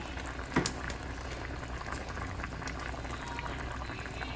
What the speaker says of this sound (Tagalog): Antayin na natin pumulo yung ating paksiw.